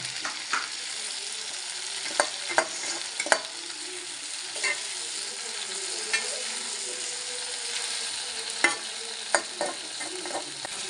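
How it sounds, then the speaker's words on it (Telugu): Tomato pieces sizzle and fry steadily in a pan for a village-style curry leaf chutney, with a constant hiss and scattered sharp clinks and scrapes of stirring throughout. "ఇప్పుడు టమాటా వేపుతున్నాం. టమాటా ముక్కలు కూడా వేపాలి, బాగా వేగాలి టమాటా ముక్కలు కూడా."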